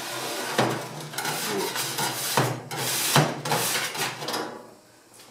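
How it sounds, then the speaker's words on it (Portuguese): A spatula scrapes the oven drawer of an Ecofogão Ecoforno wood-burning stove during cleaning, a series of rough metallic scrapes and knocks in uneven strokes, close and fairly loud. "Com espátula, vamos raspar."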